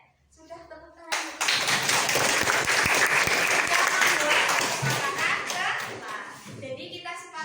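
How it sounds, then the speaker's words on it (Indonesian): A classroom of children and teachers claps together in steady, dense applause, rising abruptly after a brief moment of talk and carrying on loudly for several seconds before gradually thinning out. "Sudah, tepuk tangan."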